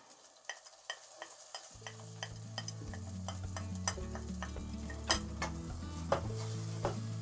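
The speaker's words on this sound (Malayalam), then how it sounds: "മഞ്ഞളൊന്ന് മൂക്കട്ടെ." Turmeric powder frying and being stirred in a pan, a soft sizzle that swells once the powder hits the hot oil, broken by repeated scraping clicks of a spoon against the pan, close and with no talk.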